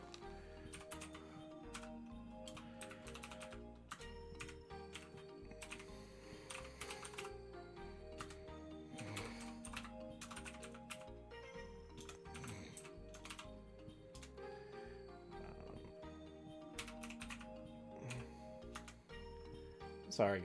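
Fast, irregular computer keyboard typing clicks away under steady background music, with bursts of keystrokes and short pauses, fairly quiet and close.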